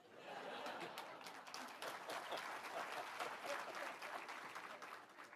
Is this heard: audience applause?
yes